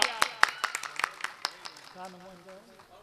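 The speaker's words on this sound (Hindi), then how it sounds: "तालियों से इस्तकबाल कीजिए आप" An audience at a mushaira claps to welcome a poet, a scattered run of sharp claps that thins out and fades, while a voice speaks over the tail end.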